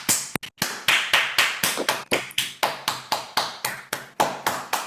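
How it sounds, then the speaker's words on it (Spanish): Rhythmic, evenly spaced claps or taps from a single participant in an online school science class, about a dozen sharp hits repeating steadily at close range with no talking. "Un aplauso, por favor."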